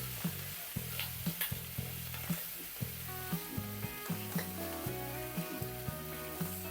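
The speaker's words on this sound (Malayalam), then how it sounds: "എല്ലാം ഒന്ന് വഴറ്റിയെടുക്കാം." Grated ginger, garlic and four green chillies sauté in a pan with a steady sizzle, broken by repeated scraping stirs at a fairly regular pace, with faint background music over the cooking.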